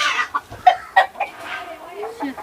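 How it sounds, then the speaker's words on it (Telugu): Chickens clucking close by at a rural house, a few short loud clucks and squawks in quick succession. "ఇప్పుడు కోళ్ళు అరుతున్నాయి కదా"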